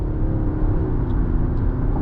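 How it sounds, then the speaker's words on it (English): The engine of a 2024 Lexus TX 550h+ plug-in hybrid kicks on while climbing uphill, heard from inside the cabin as a steady low drone with road rumble and no talking. "Going uphill here, you can hear the engine kick on"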